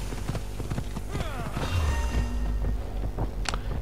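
A horse in Assassin's Creed Odyssey clatters along with quick, steady hoofbeats close up and gives a brief whinny partway through, with a short burst of other noise near the end.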